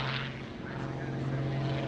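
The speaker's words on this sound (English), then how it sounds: "He's doing a lot of vertical moves here, so you're going to be looking at a lot of sky here as he rolls the airplane around." Propeller engine of an aerobatic airplane flying vertical moves and rolls at the 2016 Greenwood Lake airshow, a steady loud drone with a strong low hum heard from the ground throughout.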